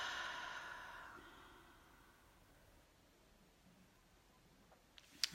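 A person breathes out deeply, a soft breathy sigh fading over the first second, then quiet room tone with a small click near the end.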